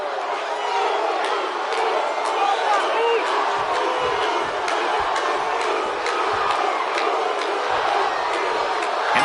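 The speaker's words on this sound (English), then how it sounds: "The crowd is on their feet for Jey Uso." Video game arena crowd from WWE 2K25 roars continuously in a dense, loud wash of cheers and whoops, filling the space without pause.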